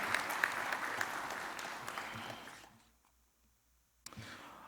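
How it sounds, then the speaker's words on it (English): An audience at a national scholarship medals award ceremony claps for an award recipient, steady applause that fades out to near silence, then a brief burst of clapping resumes at the end. "let's also give a round of applause to Ms. Varian Eden Rupnarain."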